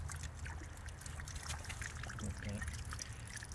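Water trickles and flows steadily through a trompe pipe in a low-head hydro demonstration, a continuous watery rush with low rumble beneath, while someone speaks briefly.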